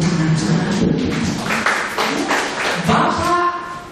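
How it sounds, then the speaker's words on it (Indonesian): Applause from a church congregation during a sermon, a burst of mixed clapping with distinct strikes standing out, fairly loud and continuous, with some voices mingled in. "Tepuk tangan."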